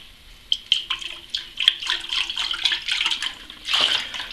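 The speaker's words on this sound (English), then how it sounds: "I just pour some water in from a cup that I got earlier. Kind of swish it around." Water poured from a cup into a water softener filter housing and swished around, with splashy, sloshing bursts and light drips, close and moderately loud.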